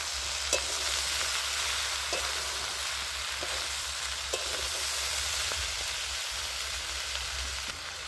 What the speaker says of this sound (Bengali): দিয়ে আমি এটা ভালো করে নাড়াচাড়া করে নেব